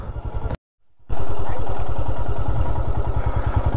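A motorcycle engine chugs with a rhythmic low thump, drops out briefly, then returns loud and close, running steadily on arrival at Muktinath temple.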